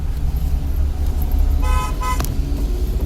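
On a road, a Mahindra Scorpio SUV passes close by while a car engine rumbles underneath. Two short horn toots sound back to back near the middle, over steady traffic noise, and no one speaks.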